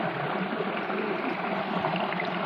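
Water runs steadily from a just-opened tap or valve, a continuous close hiss and gush that holds at an even level with no voices.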